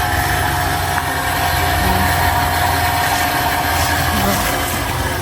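An electric motor housed in a small shelter at a well-drilling site, running with a steady dense mechanical hum and whine, continuous and close without pauses.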